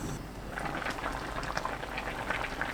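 A pot of aged kimchi and fish cake stew simmers steadily, with dense bubbling and soft popping close by, continuous throughout with no voices.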